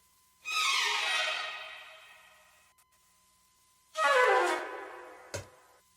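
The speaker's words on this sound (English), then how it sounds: "we have these flute runs and string runs, and I think they really add a lot to the sample" Two quick sweeping orchestral runs of flutes and strings from the Opus library, each a bright rushing flourish that fades out, the second ending with a short low thump, clear and unaccompanied.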